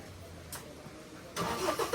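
A vehicle carrying steel rebar in a village starts up: a faint opening sound, then the engine turns over and catches with a louder rough burst near the end, no talking.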